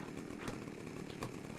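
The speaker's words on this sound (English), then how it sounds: "There's hammering and sawing and all the things going on." Faint building construction in the video game ARK: Survival Evolved: a continuous rasping, buzzing sawing with two soft knocks from hammer strikes, heard quietly and at a distance.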